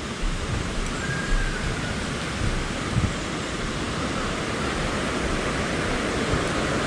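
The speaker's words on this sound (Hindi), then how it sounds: "पानी का आवाज़ आप लोगों को सुनाई दे रहा होगा" Small waterfall at a scenic spot in Jhalong in the Dooars, a steady broadband rush of falling water heard up close, continuous and fairly loud throughout.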